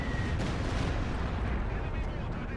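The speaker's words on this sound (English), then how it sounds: "we do got a stupid dive bomb" Dive bomb strike in the video game Company of Heroes 2, a dense, heavy rumble of explosions and artillery-like blasts that fills the whole stretch at a steady, loud level, with speech faintly underneath.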